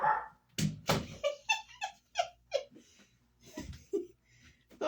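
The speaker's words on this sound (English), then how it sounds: "my dog barking in the background" A pet dog barks repeatedly in short sharp yaps and whimpers, fairly close in a room.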